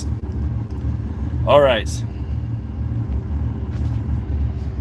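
A Lamborghini Countach engine rumbles low and steady from inside the car while driving, a constant deep drone under a brief spoken remark.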